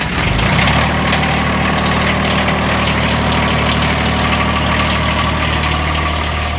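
Tractor engine cranking and catching in cold weather, then settling into a steady, loud, close idle with a deep low rumble that runs unbroken to the end.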